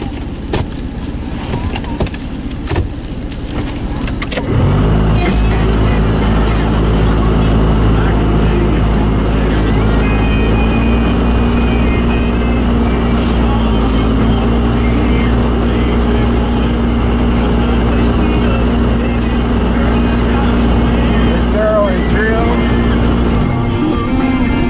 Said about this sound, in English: It might get a little loud because I got to run my heat. The only way my heat works in this Forerunner is on high.